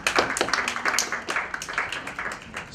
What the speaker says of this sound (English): Can you give him another round of applause for Dennis?